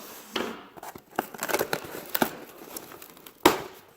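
Crinkling plastic and sharp snipping clicks as scissors cut open an ant colony gear pack, irregular and close, ending with one loud snap.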